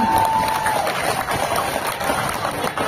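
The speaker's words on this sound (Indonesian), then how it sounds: "Tepuk tangan buat Bapak Bupati kita." An audience at a Maulid Nabi religious gathering in Bagansiapiapi claps and cheers for the regent, a dense, loud, sustained wash of applause that fills the whole stretch.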